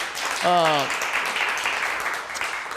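Audience applause for a performer backstage at Billy Bob's Texas during a charity music event, a steady wash of clapping filling the room, with a short sung or spoken voice rising briefly over it near the start.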